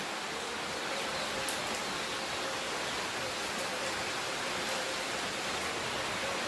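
Heavy rain pours down steadily in a late-season downpour after Diwali, a dense, unbroken hiss that fills the whole clip with no voices.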